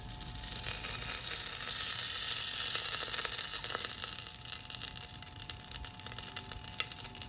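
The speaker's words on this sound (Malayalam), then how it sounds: "ഇതിലേക്ക് 2 സ്പൂൺ നെയ്യ് ചേർത്ത് കൊടുക്കാം." Ghee heating in a pressure cooker on the stove, a loud steady sizzle and crackle up close that eases slightly toward the end, with no voices.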